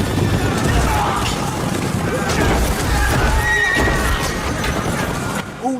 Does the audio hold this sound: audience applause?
no